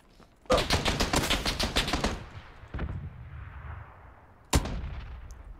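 Gunfire in PlayerUnknown's Battlegrounds: a rapid burst of automatic shots for about a second and a half, then a single sharp report and, after a pause, one more loud crack, each followed by a short echoing tail.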